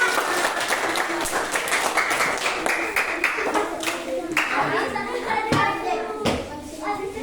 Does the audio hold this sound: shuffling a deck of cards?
no